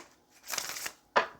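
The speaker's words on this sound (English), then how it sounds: "Let's do one more shuffle" Tarot cards are shuffled in one quick riffling burst, followed by a sharp single snap as the deck is squared, close and fairly quiet.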